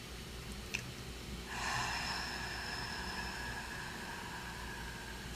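A soft, airy exhaled breath during a singing warm-up, a steady sustained hiss that starts after a brief pause and fades slowly, heard alone and close.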